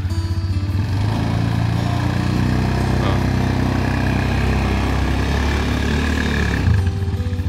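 A Nichinong IE250 farm transporter engine drones loud and steady as it climbs a slope in a field, revving slowly up with a continuous low throb, then easing near the end.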